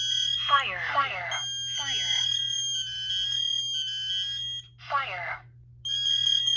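A Kidde smoke alarm, reset and set off during a test on a board of units, sounds its alarm pattern in repeated bursts against a steady electrical hum, with a talking alarm voice announcing between the tones.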